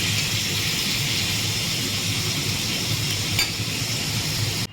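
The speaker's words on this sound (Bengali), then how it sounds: "পনিরটাকে আমি ভাজছি" Paneer frying in hot oil gives a steady, dense sizzle that stays even and close throughout, with a faint scrape partway through and no talking.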